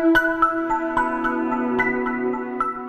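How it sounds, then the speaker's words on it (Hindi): A buzzer pressed on a televised family quiz game show rings out as a bright, loud, tonal jingle of repeated struck notes, sustained for about three seconds with no voices over it. "अब देखते हैं सबसे पहले बजर किसने दबाया।"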